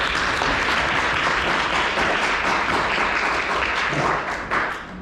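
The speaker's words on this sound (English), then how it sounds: "Can we give him a round of applause?" An audience in Johannesburg applauds a speaker at a business school event, loud dense clapping that holds steady and then starts to thin out near the end.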